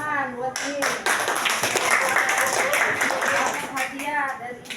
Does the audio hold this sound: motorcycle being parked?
no